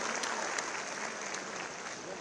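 Steady crowd applause at a National Youth Day government ceremony, a dense even patter of many hands throughout the short stretch.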